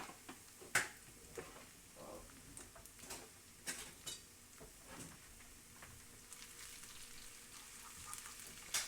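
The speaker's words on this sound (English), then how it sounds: "You want it to actually melt into the oil and the onions." Onions and anchovy paste fry in oil in a pan, a steady low sizzle broken by scattered clinks and stirring scrapes from a utensil, quiet and close with no talk.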